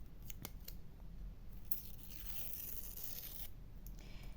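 Scissors cut a strip of washi tape in two, giving a few short, close snips followed by a longer soft slicing stroke against a quiet background hiss.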